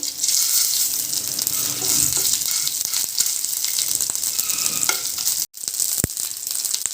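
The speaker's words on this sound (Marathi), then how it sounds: "आलं लसूण एक दोन मिनटं परतून घ्यायचे आहे" Ginger garlic paste sizzles steadily in hot oil in a pan for gobi manchurian, a constant close frying hiss with faint stirring, briefly cut off once before the sizzle resumes.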